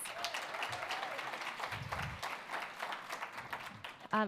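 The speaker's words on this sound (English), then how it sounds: "so please give them a round of applause." Applause for the judges at the Aspen Challenge New Orleans youth event: steady audience clapping with crowd noise and a voice over it throughout, ending in a brief louder burst.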